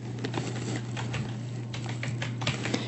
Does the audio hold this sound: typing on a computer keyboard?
yes